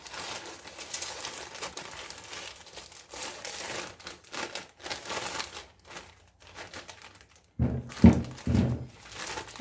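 Clay pushed into a zip-lock plastic bag for reclaiming, with irregular bursts of crinkling and rustling plastic, quieter at first and louder handling thumps near the end.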